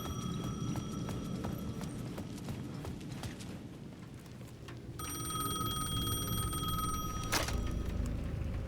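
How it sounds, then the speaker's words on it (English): A payphone at the edge of a plaza in Alan Wake 2 rings with a shrill electronic bell tone in repeated bursts, over a steady background of rhythmic clopping footsteps. "The payphone at the edge of the plaza was ringing again."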